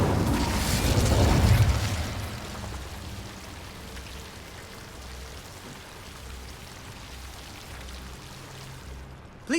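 A fire spell in Hogwarts Legacy erupts as a loud, rushing burst of flame lasting about two seconds, then fades into a low, crackling burn that continues quietly.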